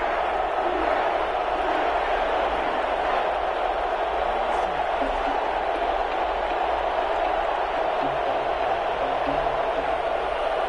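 Steady roar of a stadium crowd cheering in an EA Sports NFL video game before a Los Angeles Rams versus New Orleans Saints matchup, a continuous dense wash of sound with no pauses.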